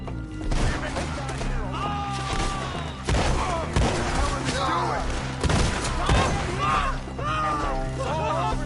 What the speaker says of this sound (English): Shoot them where they stand!